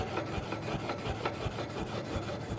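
Metal welding workpiece being cleaned by hand rubbing before a butt joint weld, a continuous scratchy, rasping scrape with regular back-and-forth strokes, close and fairly loud throughout.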